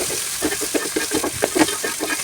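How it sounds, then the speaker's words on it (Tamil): Curry leaves and shallots frying in a pan for a Kongu-style green gram curry: a close, dense sizzle with a rapid crackling texture throughout. "இப்போ கருவேப்பிலை கொஞ்சம் நல்லா வதக்கி விட்டுக்கலாம்."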